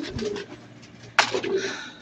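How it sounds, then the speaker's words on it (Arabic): Pigeons being fed cooing close by in a few short, low, throaty phrases, with a sharp brief noise in the middle and faint background sounds. "خلينا نطعم الحمام على السريع، يلا."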